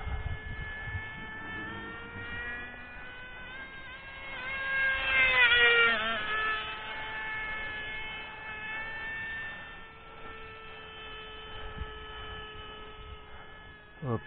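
A small model airplane with a tiny Cox Tee Dee .051 glow engine and tuned pipe flies around, a thin, steady high-pitched whine that swells louder and bends in pitch as it passes, then settles again.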